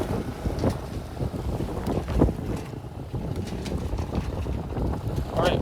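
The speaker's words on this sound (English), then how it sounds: "I'm doing a little bit of motor sailing here" A small sailboat motor sailing with its outboard running, buffeted by steady wind gusts that largely swamp the engine's low drone across a continuous, unbroken stretch.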